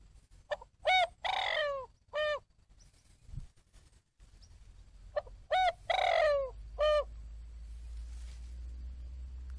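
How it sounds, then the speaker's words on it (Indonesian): Two bursts of a turtle dove's cooing call, several rhythmic hooting notes each, separated by a pause, sounding slightly electronic, played from an MP3 through a speaker as bird-trapping lure. "Dan juga MP3 suara tekukur."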